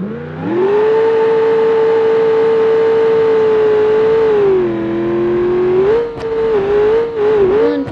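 Simulated car engine in BeamNG.Drive holding a loud sustained high rev while drifting, then dipping and surging again with a couple of sharp clacks near the end, alone with no talk.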